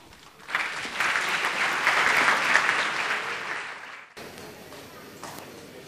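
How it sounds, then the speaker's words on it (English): Audience applause at the end of a theatre comedy performance, a burst of clapping from a room full of people that swells quickly, holds for a few seconds, then thins out and cuts off. "Are you all going to cheer for them and scream and shout and clap?"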